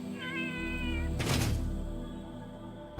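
A drawn-out cat meow from Satisfactory's kitten-like spider creatures opens over a game hum, followed by a broad burst of noise and a quieter, lingering background drone, no talking.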